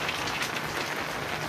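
Heavy rain falling on village farmland in Bangladesh, a dense, even wash of droplets pattering continuously at moderate loudness, with no voices.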